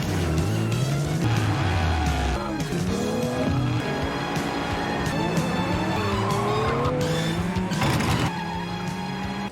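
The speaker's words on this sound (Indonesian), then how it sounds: "Lagi-lagi, dengan skill driftnya, Dongwook kembali lolos" In a film car chase set in 1980s Seoul, a car drifts with tires squealing and skidding in long rising and falling whines over a loud, constant engine roar.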